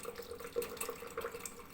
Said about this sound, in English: so I'll get some hot water in here going